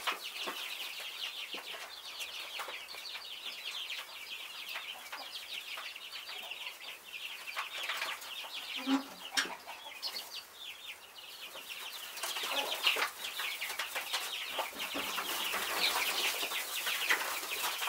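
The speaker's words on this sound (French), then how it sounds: "les poussins sont à 3 semaines. Ils sont bien vifs, bien réveillés, ils bougent partout" Three-week-old chicks in a brooder peep and chirp busily at close range in a continuous high twittering chorus, with occasional rustling and wing flutters.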